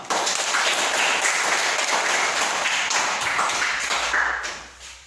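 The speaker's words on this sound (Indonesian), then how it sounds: "Tepuk tangan untuk kita semua." Classroom applause from pupils, a loud, dense burst of many hands clapping at once that carries on steadily and then tails off at the end.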